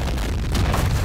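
Grenade explosion in the Vietnam War strategy game Men of War Vietnam, a loud dense boom filling the whole moment with rumbling blast noise.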